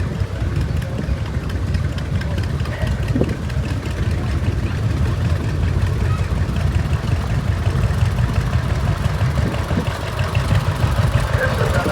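A 1937 John Deere 830 tractor at a tractor parade, its engine idling with a steady, loud low rumble that continues throughout.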